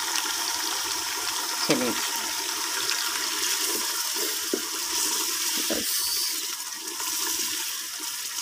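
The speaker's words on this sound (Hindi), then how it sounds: "अब इसे अच्छे तरीके से हम भून लेंगे मसाले को।" Chatkhaaredaar masala roasting for chicken chikar choley gives a loud, continuous frying hiss throughout, with a few brief knocks and scrapes from stirring; a voice speaks briefly.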